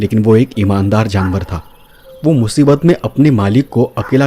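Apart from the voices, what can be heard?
No distinct noise like a dog, phone or traffic.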